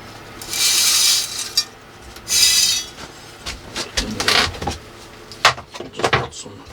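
Soil is poured and pushed into a bonsai pot around the roots of a Japanese quince, giving bursts of gritty hissing and rustling with scattered light knocks and scrapes close by.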